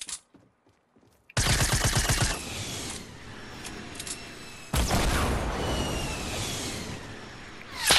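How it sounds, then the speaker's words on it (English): Gunfire in Fortnite crackles loud and close in dense bursts, a rapid machine-gun rattle followed by a second sustained volley after a short lull, with no talk. "they're shooting me"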